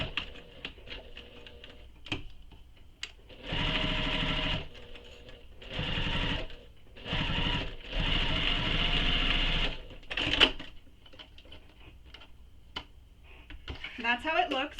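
A sewing machine backstitches the corners of a belt bag in several short, loud bursts separated by pauses, with handling clicks and rustles between runs.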